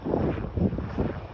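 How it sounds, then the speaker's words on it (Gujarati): A helicopter passes overhead outdoors in the morning, producing a steady low rumble with a faint throbbing pulse at moderate distance and a bit of wind noise. "જો માથે ને હેલિકોપ્ટર જાય છે તમને બતાવું"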